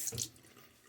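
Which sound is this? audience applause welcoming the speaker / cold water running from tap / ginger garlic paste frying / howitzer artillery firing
cold water running from tap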